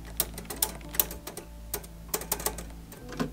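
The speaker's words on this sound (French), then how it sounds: "Machine à écrire Olympia." Keys of an Olympia typewriter clack in irregular bursts of sharp taps, close and clear, inside a storage room of an abandoned building, with no speech.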